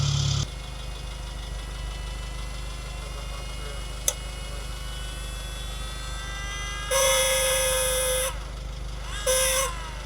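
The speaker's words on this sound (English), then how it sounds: "we're gonna go to our pump motor. We're gonna activate it." An electric Haldex all-wheel-drive pump motor on a Golf R, switched on by a scan tool, gives a steady low hum under a constant engine-like drone, with one brief click and two short higher whines near the end.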